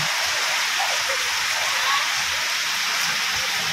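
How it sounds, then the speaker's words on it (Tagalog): Steady rain falls during Typhoon Pepito, a dense, even hiss of drops on surfaces that holds constant throughout with no talking. "Diba? Umuulan. Umuulan na siya."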